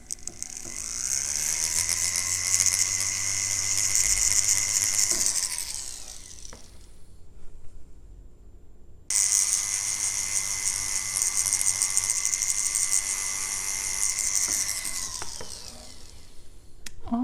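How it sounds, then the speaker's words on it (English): A small Foredom flex shaft rotary tool polishes a piece, giving a steady high-pitched whine that runs about six seconds, drops out briefly, then resumes for the rest of the clip, close and loud with no talking. "especially when I'm using a smaller tool like this little Fordham shaft"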